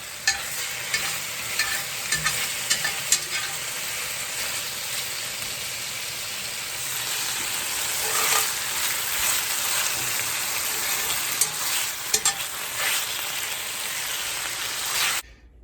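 Bacon, sausage and ham sizzling steadily in a pan with occasional stirring scrapes, a continuous close crackle with no talk until it cuts off at the end.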